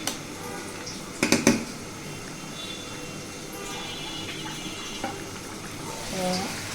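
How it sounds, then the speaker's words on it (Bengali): Meat with two tomatoes sizzles steadily in a pan, a constant frying hiss with a short burst of metallic clatter early on and faint utensil scrapes later. "আজকে কিন্তু হাতে মাখিয়ে মাংসটা বসিয়ে দিয়েছি, 2টা টমেটো দিলাম।"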